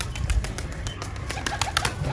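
Pigeons flutter and stir close by in a steady, busy mix of soft wing flaps and faint coos, with no voices.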